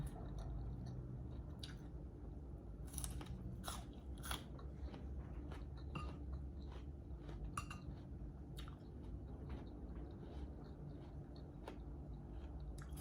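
Someone eats a spicy Lao-style lunch with chilies and red shallots, with steady close crunching and chewing bites plus occasional light clinks of dishes and cutlery, with no talking.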